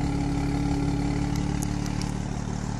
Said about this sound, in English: here you can hear it a little bit just while it's idling